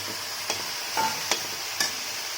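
Cut tomatoes and shelled peas sizzle in a pan while being stirred, a soft steady frying hiss broken by three or four sharp scraping strokes of a spoon.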